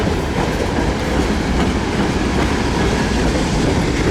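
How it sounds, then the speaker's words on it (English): A CSX local freight train with a caboose rolls past at Lakeland, Florida: a loud, steady rumble close by with rhythmic clickety-clack of wheels over rail joints and no voices. "this is a local train with the caboose that they use as a shoving platform"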